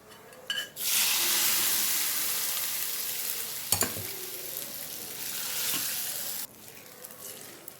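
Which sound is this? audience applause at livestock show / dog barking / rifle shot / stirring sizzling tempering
stirring sizzling tempering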